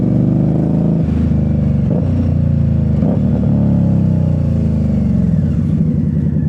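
Motorcycle ridden through traffic, its engine held at a steady, loud drone close by, with slight rises and dips in pitch as the rider works throttle and gears, no voices.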